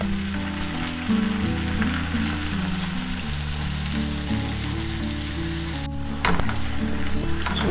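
Vegetables fry in a pan as tomato is added, a loud, steady sizzle up close with a brief stir and a sharper crackle near the end, no voices.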